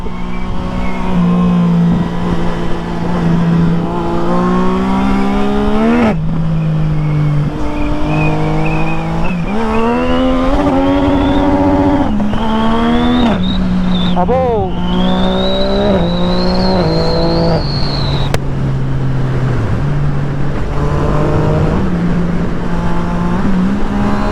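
A Yamaha MT-09 SP motorcycle with an aftermarket Tiger exhaust revs loudly and continuously, its pitch rising and falling through repeated throttle blips and gear shifts, close and sustained.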